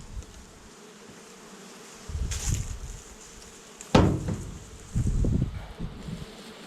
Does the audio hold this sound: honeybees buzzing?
yes